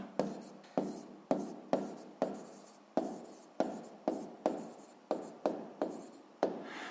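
Pen writing notes for a sixth-grade maths exercise, about fourteen quick scratchy strokes in an uneven rhythm, close and quiet with no speech.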